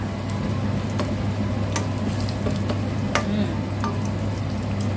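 Garlic sizzling in a hot pan as the base of a Thai gravy-style noodle sauce, a dense continuous crackle with sharp spatter pops and stirring scrapes throughout, fairly close and loud, no voices.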